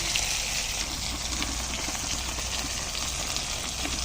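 Small puti fish sizzle steadily in oil in a pan over a clay stove, a continuous close crackling hiss with no talk.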